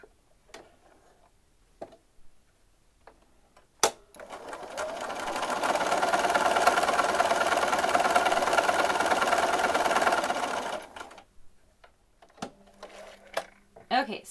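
A sewing machine stitches along a fabric edge in one steady mechanical run of about six seconds, with light clicks and handling noises before and after.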